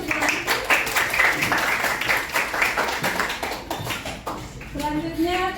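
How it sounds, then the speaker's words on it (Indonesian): Classroom applause for a pupil: a steady patter of clapping hands runs through, mixed with children's voices and chatter, and near the end a voice rises above it. "Tepuk tangan untuk Agusman"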